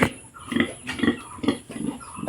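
Pig grunts in a quick rhythmic series, several short snorting bursts close by, with no talking.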